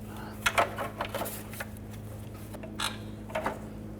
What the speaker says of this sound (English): Use a 13mm socket. Loosen both of those up and take those out.